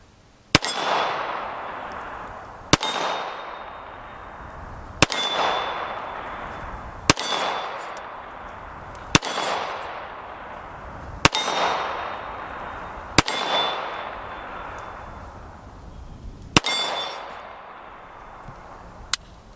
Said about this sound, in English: I'm gonna try that little gong again.